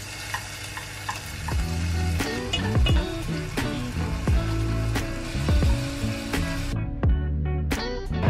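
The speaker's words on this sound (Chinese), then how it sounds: "把这些用黑胡椒腌过的虾和鱿鱼放下去煎一煎" Black-pepper-marinated shrimp and squid sizzle and crackle steadily in a hot pan, with scattered sharp pops and spatters close by and no talking.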